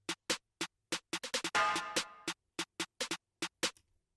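A short percussive snare drenched in reverb plays in a drill beat, repeating in a steady pattern of sharp hits with a longer washed-out burst in the middle, clear and alone.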